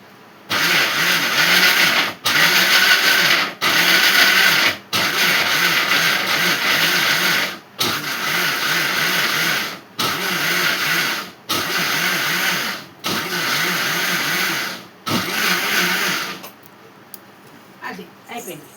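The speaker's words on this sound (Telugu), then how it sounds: "అందుకనే మిక్సీ పడుతున్నాను." A kitchen mixer grinder purees a curry with chili powder. About nine loud, whirring bursts of a few seconds each are separated by short pauses, then the motor stops and quieter handling sounds follow.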